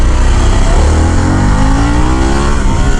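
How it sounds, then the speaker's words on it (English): Harley-Davidson Pan America 1250 Special motorcycle accelerating hard on a ride, its engine loud and close throughout, with the pitch climbing steadily as it gains speed. "I am thoroughly impressed with the handling and acceleration of this bike so far."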